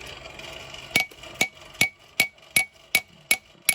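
Hammer blows drawing down the bevels of a steel knife blade at a backwoods forge, eight sharp ringing strikes at a steady, slightly quickening rhythm, close and clear over a faint background hum.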